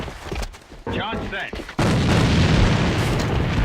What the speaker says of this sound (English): Nice flash nade on BB there